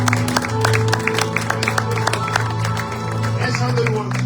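A church congregation at a prophetic conference claps and cheers for Jesus. Dense, steady applause with sharp claps rings out over sustained musical tones for the whole stretch.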